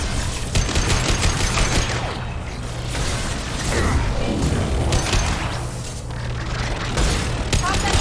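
Gunfire rattles through a Mass Effect firefight, with bursts of mechanical weapon noise and clatter running steadily over a dense, loud game soundscape with a low droning bed throughout.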